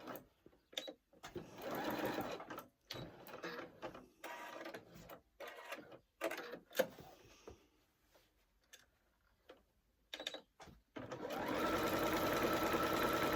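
A sewing machine running a stretch stitch on stretch fabric, in short close bursts of rapid mechanical stitching separated by pauses, ending in a longer continuous run.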